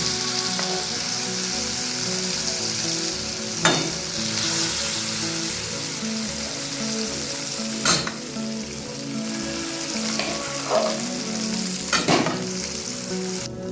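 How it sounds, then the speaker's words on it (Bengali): Boiled dal poured into a sizzling pan of tempering with fennel seeds, a steady loud frying hiss with a few sharp spatters and stirring clatters, no talk. "এবার সেদ্ধ করা ডালটা দিয়ে দেব।"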